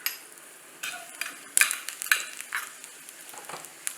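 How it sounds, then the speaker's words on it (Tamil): Raisins fried in a pan for payasam give a faint, soft sizzle with light stirring scrapes and a couple of small clinks, close but quiet, with no talk. "இப்போது இந்த திராட்சை சேர்த்துடலாம்"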